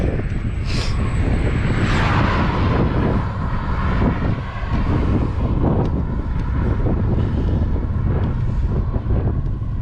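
Strong wind on a bicycle ride between Sivas and Erzincan buffets the microphone in a constant, heavy roar with low rumbling gusts, loud and close, no voices.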